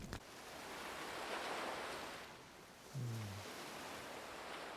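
Night sea waves from the anime Vinland Saga wash in a steady, moderately loud surf wash, rising and falling gently, with a brief low tonal swell near the end.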